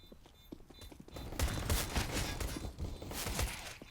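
Gunfire in the Counter-Strike video game ending in a headshot, a dense flurry of shots and impacts that swells midway through, preceded by quieter scattered footstep-like taps.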